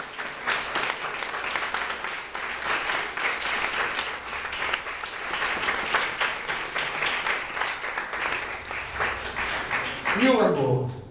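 Church congregation applauds at a service, dense sustained clapping from many hands that carries on steadily for several seconds and swells near the end, with voices mixed in.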